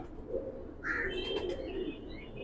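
Imamdeen pigeons, pure-bloodline birds, give soft close cooing calls with brief chirpy notes, heard alone without talk.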